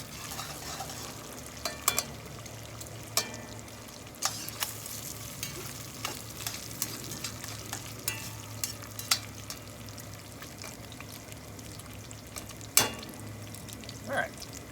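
Bacon and beef stirred in a pot, a spoon scraping and clacking against the bottom in scattered knocks over a soft steady sizzle, close and quiet with no talk.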